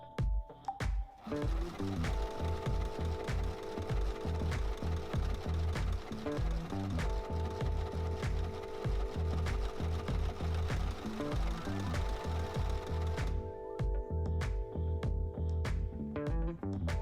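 A serger overlocker sewing machine stitches a leggings seam, running in fast, loud, rhythmic bursts with brief pauses and restarts across the whole stretch, close to the microphone.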